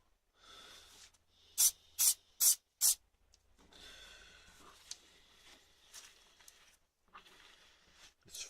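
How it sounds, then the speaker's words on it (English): Four short, loud bursts of spray paint from a very full aerosol can being purged, evenly spaced, followed by softer hissing and rubbing sounds with brief gaps. "We purge this spray, so it's going to paint a little better than it was."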